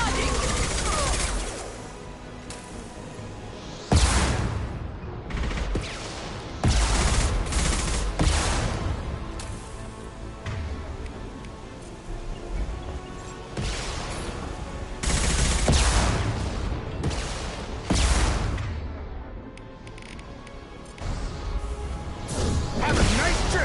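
Rapid bursts of gunfire in the sci-fi shooter Mass Effect 2 crack out in clusters with short pauses between volleys, loud and close, with occasional character voices and combat effects mixed in.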